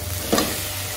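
Chili-powder masala and chicken frying in a pan, heard as a brief, close sizzle with one quick scrape of a spoon over a low steady hum.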